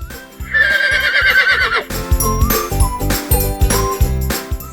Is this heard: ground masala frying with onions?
no